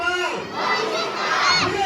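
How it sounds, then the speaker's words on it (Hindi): A crowd at a BJP Lok Sabha election rally in Ratgal shouts a political slogan in unison. The loud massed voices come in short rhythmic chant bursts close by. "मैं बोलूंगा फिर एक बार आप सबने कहना है मोदी सरकार"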